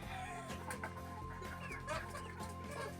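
Young cockerels newly moved into a free-range area cluck in a steady, busy chatter, several birds close by over a low continuous rumble of farmyard background.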